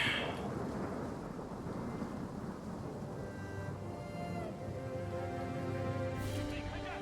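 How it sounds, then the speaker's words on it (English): Rain and thunder during a Total War: Three Kingdoms battle, a dense continuous rumble and rain hiss with a deep roll of thunder, plus faint tonal game sounds underneath. "It's raining."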